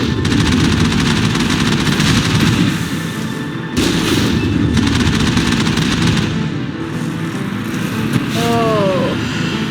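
A heavy turret in the Mass Effect game fires continuously, a loud dense rattle of rapid shots with booming low rumble, briefly breaking off twice before resuming.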